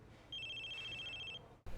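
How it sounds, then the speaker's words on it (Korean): A telephone rings in a scene from the animated superhero series Invincible: a steady run of rapid electronic ring pulses for about a second, clear and moderately loud, then cut off abruptly. "세실의 전화를 받고"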